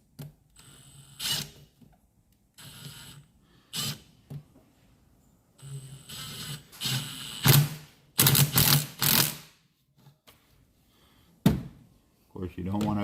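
A hose clamp is tightened on an S&B cold air intake on a 2020 Chevy 2500HD 6.6 gas pickup, with scattered close clicks and ratcheting bursts between quiet gaps, and a voice occasionally heard.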